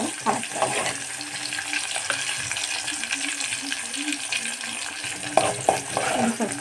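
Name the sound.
onions frying in hot oil for egg curry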